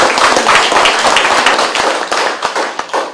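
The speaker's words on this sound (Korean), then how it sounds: "우리 다시 한번 자축으로 박수를 쳐주시기 바랍니다" Audience clapping at a social welfare course graduation ceremony: dense, close applause of many hands with sharp individual claps, slowly thinning toward the end.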